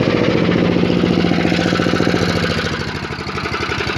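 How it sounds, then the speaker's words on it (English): An MTD White Outdoor YardBoss 800 8 horsepower chipper shredder yard vacuum runs loud and close with a steady throbbing engine chug that eases slightly toward the end. "my MTD White Outdoor YardBoss 800 8 horsepower chipper shredder yard vacuum"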